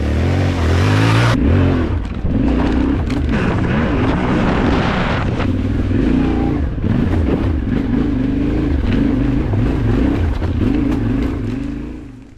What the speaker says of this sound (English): Today I'll be riding a Yamaha Tenere T7 2025 model.